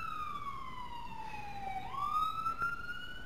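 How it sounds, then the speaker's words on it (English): An ambulance siren passes outside near a hospital, its wail gliding down and then sweeping back up, clear and fairly close over quiet background. "It's just an ambulance outside, if you could hear that siren."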